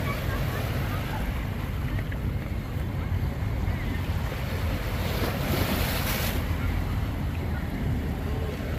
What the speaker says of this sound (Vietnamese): Ôi, chúng ta nghe tiếng sóng vỗ nha.